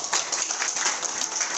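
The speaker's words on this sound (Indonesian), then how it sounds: "Tepuk tangan dulu dong untuk Nagaya." Audience applause at a talk on choosing digital assets, a brief burst of many hands clapping, bright and steady, with no speech over it.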